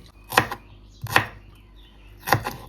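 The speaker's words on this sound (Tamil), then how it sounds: "சின்ன வெங்காயம் தான் வெட்டி போடுறோம்" Three sharp knife chops through small onions on a cutting board, spaced irregularly, close and crisp with quiet gaps between them.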